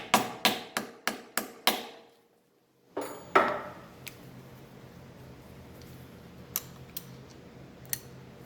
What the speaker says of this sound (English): I'm going to pump it with a hammer